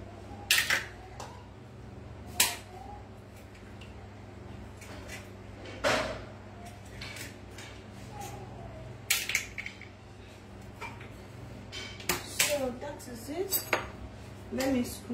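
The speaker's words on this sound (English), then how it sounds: "I'll be cracking some 4 eggs over here." Four eggs are cracked one after another into a bowl while making chin chin, each giving a short sharp tap against the rim over a humming kitchen background, with scattered clinks of dishes.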